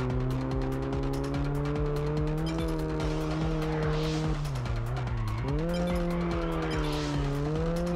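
A car in Test Drive Unlimited on PS2 drifts with a loud, continuous tire squeal over a droning engine whose pitch rises and dips as the slide changes through the turn.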